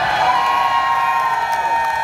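Large concert crowd at a show cheering and whooping loudly, a sustained dense roar of many voices with no pause.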